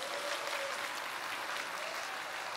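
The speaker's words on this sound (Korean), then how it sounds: "여러분들 위해서 박수." Audience applause at a Korean Atomy business seminar, a steady dense wash of clapping from a crowd, moderately faint and continuous throughout with no voices over it.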